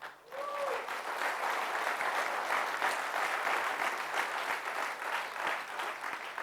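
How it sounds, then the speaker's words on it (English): Sustained applause from a training session audience, a dense, steady patter of many hands clapping at moderate level throughout. "We can clap for it."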